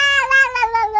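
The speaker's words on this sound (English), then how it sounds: "This is a sad cat." A sad cat in a Minecraft animation lets out a short, close, plaintive meow that wavers and falls in pitch, with no talking.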